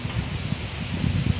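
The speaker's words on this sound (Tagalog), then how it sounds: "Napakalakas ng hangin guys." Strong wind gusting around a house during a storm, a short burst of low buffeting and rustling with uneven puffs, close to the microphone and without talk.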